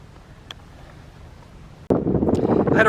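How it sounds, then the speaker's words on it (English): Strong gusting wind buffets a microphone outdoors beside a teardrop trailer, quiet at first and then surging into a loud, steady roar for the last second. "it's just way too windy"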